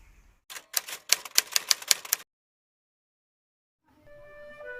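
A typewriter typing a manuscript: a quick run of about a dozen sharp, loud keystrikes close by, then silence, followed by faint tonal background sound.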